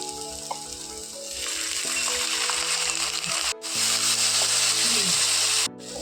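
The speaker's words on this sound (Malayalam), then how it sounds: "അതിലേക്ക് മസാലകളെല്ലാം ഇട്ട് അതിൻ്റെ പച്ച മണം മാറുന്നത് വരെ നമുക്ക് നന്നായിട്ട് ഇളക്കി കൊടുക്കാം" Masala for liver mappas sizzling in a pan as it is stirred, a dense steady frying hiss that swells and holds loud, broken by two brief near-silent gaps.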